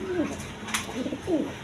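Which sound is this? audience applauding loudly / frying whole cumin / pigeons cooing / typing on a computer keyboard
pigeons cooing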